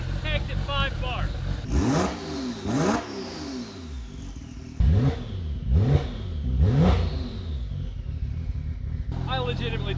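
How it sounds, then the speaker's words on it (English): A Porsche 911 Turbo engine revving hard after a rebuild, several sharp rising-and-falling revs with a hissing turbo whistle and rough exhaust note, loud and close, with people talking in between. "The exhaust note, the turbo whistle, this is why I built the Porsche."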